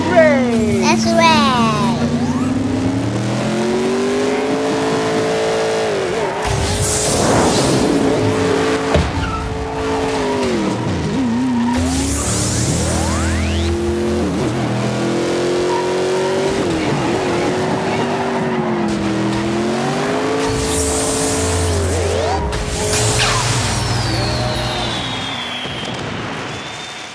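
Hot Wheels toy cars racing around a plastic track with Bone Shaker and Batmobile models, giving whirring, revving motor whines with skids and clattering impacts, while children talk excitedly over the racing.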